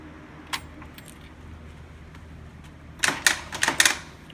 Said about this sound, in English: it's just a solenoid clicking